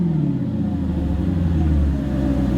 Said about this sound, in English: The car is a lot slower to come down off of revs versus when I have that hose plumbed in